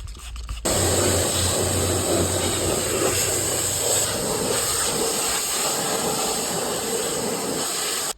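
A dirty old Murray lawnmower being washed down with a steady, loud hiss of pressurized water spray, starting abruptly and running continuously with a faint low hum underneath.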